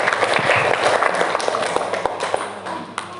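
Audience applause after a student group's presentation in a classroom, a dense burst of hand clapping that fades slightly toward the end, moderately close with faint voices mixed in.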